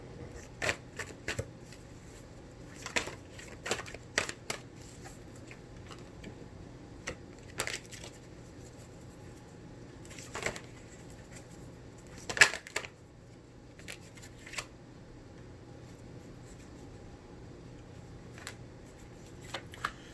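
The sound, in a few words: tarot cards being shuffled and drawn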